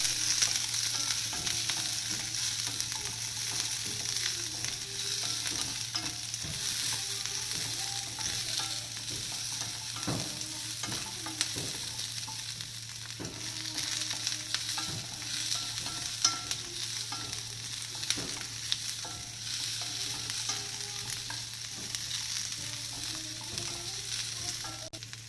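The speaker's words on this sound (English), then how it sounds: "Once the garlic and ginger are sauteed, add the onion, roughly chopped onion, and one green chili." Onion, green chili, garlic and ginger sauté in a hot pan, giving a steady, even sizzle with occasional stirring scrapes throughout and no speech over it.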